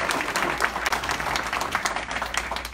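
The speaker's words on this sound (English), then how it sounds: "Dwayne DeFries, who maybe deserves his own round of applause." Steady applause from a crowd at a panel discussion held at Dixie Crossroads, with dense clapping sustained throughout and no talk over it.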